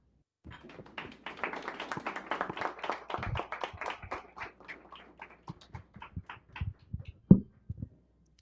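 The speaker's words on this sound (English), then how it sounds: "Please give a warm round of applause for Sister Bertha." Audience applause for the poet Sister Bertha at an evening gathering on the situation in Congo, a dense burst of clapping that thins into scattered individual claps, ending with a sharper clap or two.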